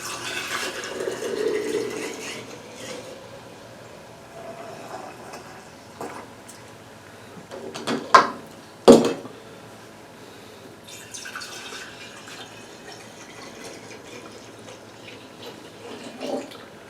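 Apple moonshine trickles and splashes as it is poured into small glass jars, soft liquid pouring punctuated by two sharp glassy clinks midway, then quieter trickling.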